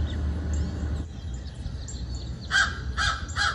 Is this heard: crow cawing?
yes